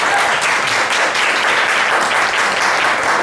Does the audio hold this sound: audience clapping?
yes